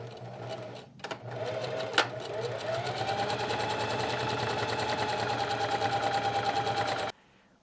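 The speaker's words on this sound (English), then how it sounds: "we're going to do a zigzag stitch all the way around one swift stitch." A sewing machine runs a zigzag stitch around a hoodie piece, a steady fast rattling whir that starts after a couple of clicks, holds for about five seconds, then stops abruptly.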